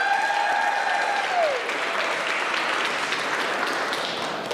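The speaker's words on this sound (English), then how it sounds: "you're going to applaud here in a moment" A church congregation applauds during a service, a dense and even wash of clapping that holds steady and fades slightly toward the end, with no voices over it.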